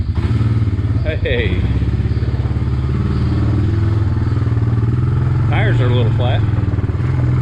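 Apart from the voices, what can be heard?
Honda Fourtrax 300 ATV engine running in gear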